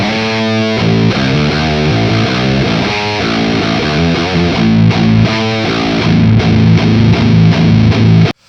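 A high-gain metal electric guitar runs through a boost pedal, loud and heavily distorted, playing chugging palm-muted riffs with sustained chords continuously before cutting off abruptly at the end.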